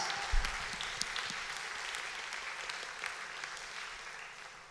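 A church congregation applauds together, a broad steady wash of clapping that fills the room and slowly fades toward the end.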